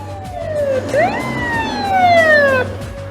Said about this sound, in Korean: 거리 곳곳에 사이렌이 울리고